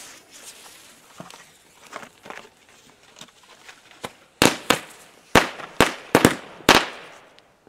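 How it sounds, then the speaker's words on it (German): A Knallfrosch jumping firecracker goes off outdoors on New Year's Eve: faint crackling and fizzing at first, then a burst of loud, close, irregular bangs as it hops and pops several times. "Ein Knallfrosch ist da."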